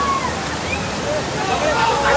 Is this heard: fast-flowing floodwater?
yes